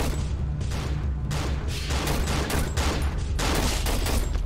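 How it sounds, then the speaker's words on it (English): Gunshots in the horror video game Cry of Fear, with rapid, repeated shots fired in dense bursts that fill the whole stretch loudly and close up. "I feel like I'm wasting shots right now."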